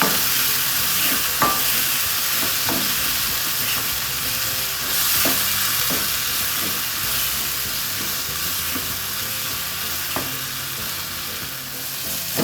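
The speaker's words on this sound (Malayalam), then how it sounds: "അതുവരെ ഇത് വഴറ്റി കൊടുക്കണേ" Tomatoes sauté in a pan for a cabbage masala, a loud, continuous hissing sizzle with periodic spoon knocks and stirring scrapes throughout.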